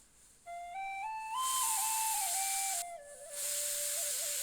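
A pressure cooker on a low flame lets out two long, loud steam whistles that start as a rising tone and settle into a steady shrill hiss, with a short dip between them.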